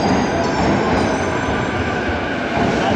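A busy commuter train at a Tokyo station rumbles loudly and steadily, with rail and car noise filling the whole stretch and no voices.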